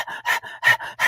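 A human voice imitates the heavy panting of tired dogs that have just finished running, giving three or four quick, breathy, rhythmic pants close up and alone.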